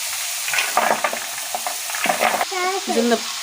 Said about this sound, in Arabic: نزلنا بالخضار اهو. هديله تشويحه بقى كده مكان اللحمه اهو